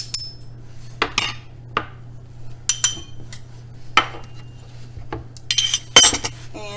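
A metal utensil clinks and scrapes against a bowl while stirring brown sugar and cinnamon together, a series of sharp irregular taps over a faint steady hum.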